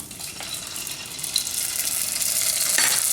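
Banana wontons fry in hot oil, giving a steady close sizzle that grows slightly louder throughout, with no talking.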